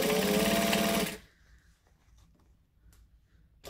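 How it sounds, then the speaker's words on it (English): A sewing machine stitches two layers of fabric together at once in a fast, loud, steady whir for about a second, then stops, leaving quiet handling noises. "I'm going to stitch both together at the same time."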